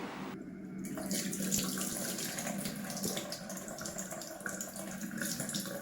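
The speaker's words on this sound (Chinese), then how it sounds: "220克脱皮绿豆用清水浸泡30分钟后多清洗几遍，清洗干净。" Peeled mung beans being rinsed in clean water, with a steady splashing, running-water wash that continues throughout at moderate level and no talking.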